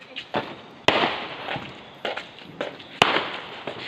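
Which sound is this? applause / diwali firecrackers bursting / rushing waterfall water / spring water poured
diwali firecrackers bursting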